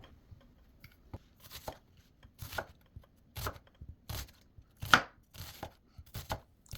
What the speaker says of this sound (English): On my chopping board, I slice the onions nice and thin.